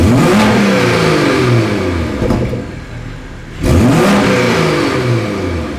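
BMW M240 Gen2 with an aftermarket downpipe, revved in comfort mode with its exhaust valves closed: a loud, close engine climbs, briefly falls away, then surges back and holds high.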